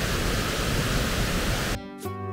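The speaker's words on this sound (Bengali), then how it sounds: "এই পাশ দিয়ে দেখুন কত জল বয়ে আসছে" A stream rushing beneath a bamboo bridge in hill country, a loud, broad, steady wash of flowing water up close that cuts off abruptly near the end.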